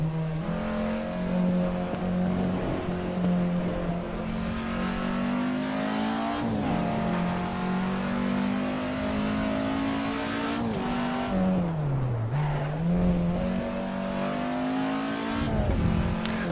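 Race car engine drones steadily through a qualifying lap in a racing video game, loud and continuous, pitch rising and dipping through gear changes and braking for corners, with a tyre squeal near a slowdown.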